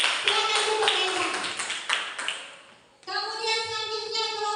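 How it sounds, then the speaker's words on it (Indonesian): Classroom applause for a student group, a short burst of scattered clapping that fades out, followed by children's voices chanting or speaking in unison. "Tepuk tangan dulu untuk kelompok Reza."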